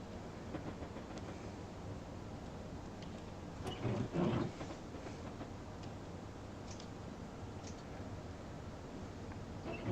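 A locomotive from Train Simulator 2014 on a London–Faversham high speed route, running as a steady broad rumble with faint rail clatter and a brief louder swell midway.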